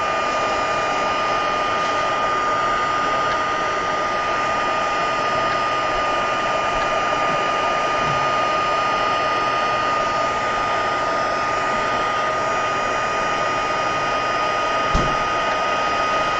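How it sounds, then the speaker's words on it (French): A steady, loud blowing whine of a heat embossing gun runs continuously with an even airy roar and a constant high tone, no talking. "C'est pas un sèche-cheveux."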